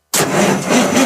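A diesel engine cranks hard and struggles to start, a loud, continuous mechanical churning that begins abruptly and runs throughout with no voices.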